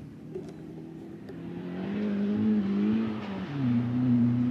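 A Ford Escort engine idles roughly nearby, sputtering, its low drone wavering and dipping unevenly as if stumbling, with no voices over it.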